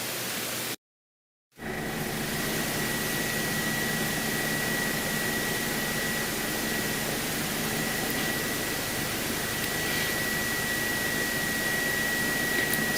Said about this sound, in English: So this is what it sounds like inside the helicopter. If you didn't have in earplugs, it's really, really loud with some high-pitched noises.